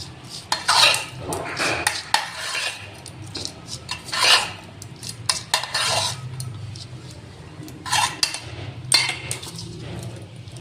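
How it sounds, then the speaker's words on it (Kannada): A spoon stirs radish kosambari, a salad of grated radish, chopped onion and coriander with tempering, in a bowl. Close, irregular clinks and scraping scrapes come in bursts, without talk. "ಸರಿಯಾಗಿ ಮಿಕ್ಸ್ ಮಾಡ್ತಾರೆ ಇದಕ್ಕೆ"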